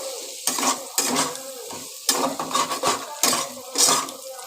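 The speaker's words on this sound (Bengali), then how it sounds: "ভালো করে আলুগুলো আমি একটুখানি খানিক্ষণ ভেজে নিচ্ছি নাড়াচাড়া করে" Potatoes fry in oil in a pan while being stirred for an okra and potato curry, with repeated loud scraping strokes over a steady sizzle.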